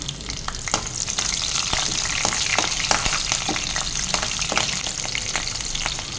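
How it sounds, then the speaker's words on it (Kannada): Green chillies and golden urad dal fry in hot oil in a pan for South Indian vangibath upma, a dense, steady sizzle close by with light spatters and occasional stirring scrapes. "ಉದ್ದಿನಬೇಳೆ ಹೊಂಬಣ್ಣಗೆ ಬಂದಮೇಲೆ 2 ಹಸಿಮೆಣಸಿನ್ಕಾಯಿ ಹಾಕ್ಕೋತಾ ಇದ್ದೀನಿ"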